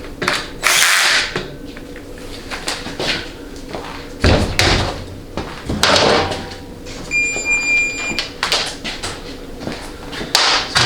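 Ratchet wrench tightening a 7/16 bolt for the pressure port tap on a 4L80E transmission in a rebuild fixture, giving bursts of clicking and clattering metal mechanism noise at close range, with a few brief tonal squeaks.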